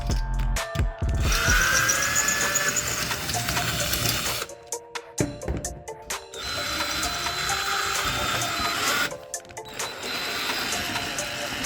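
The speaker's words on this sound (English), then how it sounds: "I'm using an 11/64 drill bit to drill out the old rivet." Power drill with an 11/64 bit boring out an old rivet on a 1978 Monte Carlo, loud whirring bursts with rising pitch, broken by short pauses and clicking between runs.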